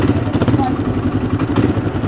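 A motorcycle ridden through the desert drones continuously up close, with a rough, pulsing engine note and some rattling throughout.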